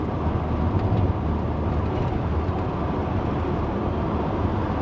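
A 1982 Elec-Trak electric tractor being driven, a steady, loud low rumble and whir of motor and drivetrain, with no talk.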